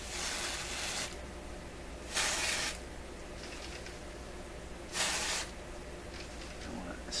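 Freeze spray aerosol being sprayed around inside an Electrohome Chippendale console during repair: three short, sharp hissing bursts separated by quiet pauses, near and clear against a faint background hum.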